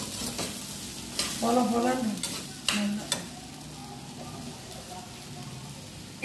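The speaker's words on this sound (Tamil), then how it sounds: "எண்ணெயில் அந்த உளுத்த பருப்பு கொஞ்சம் அதை போட்டு பரட்டணும்." Urad dal frying in oil in a heavy-bottomed pan for banana flower usli, a soft steady sizzle with a few sharp spatula taps, and a person talks briefly over it.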